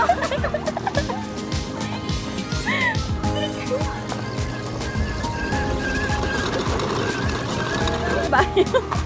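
Horses in a rural setting in Quezon Province or Rizal, with whinny-like calls amid a busy, noisy outdoor scene, fowl sounds and hoof clatter mixed in, plus talk around them.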